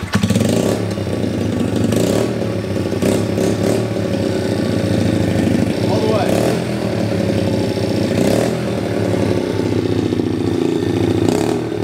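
A 50cc dirt bike engine runs close by at a steady, buzzy idle with a few light blips of throttle, loud and continuous throughout.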